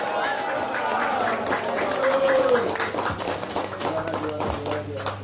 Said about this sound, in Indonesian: Sekali lagi tepuk tangan untuk Master Arisriani.